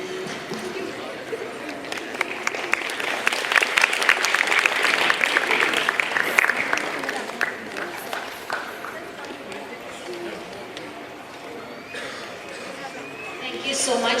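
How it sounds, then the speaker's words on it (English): Audience applause at a Study in Japan information session: a burst of clapping swells through the middle and then thins out, with crowd chatter and voices running underneath and carrying on after the clapping fades. "give them another round of applause"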